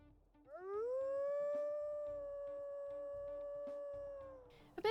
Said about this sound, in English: Let's go ahead and we'll listen to her howls as well.